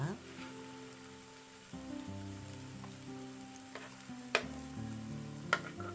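Sweet potato and napa cabbage pancakes fry in a pan with a steady, close sizzle and a few sharper crackles, all under soft background music.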